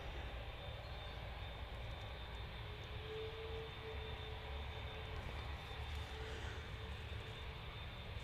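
A Juneyao Boeing 787-9 airliner approaching Manchester Airport, its engines a steady broad roar that holds evenly throughout, distant rather than overhead, with no talk.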